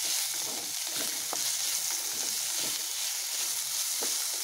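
Tomato frying in a pan for banana flower kuzhambu, a soft continuous sizzle with faint stirring scrapes, fairly quiet and unbroken.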